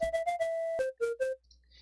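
A single bright FM synth chiptune channel in Deflemask plays a short run of buzzy notes, a few quick repeated tones then a lower held pitch, alone.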